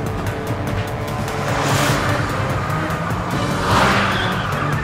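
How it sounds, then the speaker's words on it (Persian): A car in a comedy action film swerves hard with tires squealing over a loud, continuous engine roar, with two rising bursts of skid noise and no talking. "بابا چقدر ویراج میدی؟"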